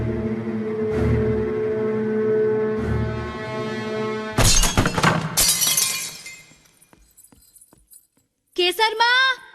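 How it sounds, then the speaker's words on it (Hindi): Glass shatters suddenly inside a house in a Bollywood horror film, a loud crash with tinkling shards scattering after a sustained musical drone, followed by quiet and then a voice speaking. "कांच टूटा है।"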